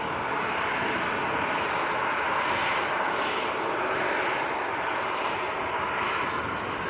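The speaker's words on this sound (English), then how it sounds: "There's an EasyJet going full length as well." An EasyJet airliner takes off using the full runway length at Manchester Airport, a loud, sustained jet roar with a broad rushing hiss that stays steady and close throughout.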